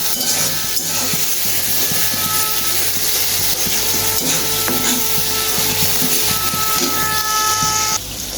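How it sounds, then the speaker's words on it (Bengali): Spice paste fries with golden onions in a pan, a loud, dense, continuous sizzling and rubbing roar that holds steady throughout and drops slightly at the very end. "মশলাটা কষাই নিই"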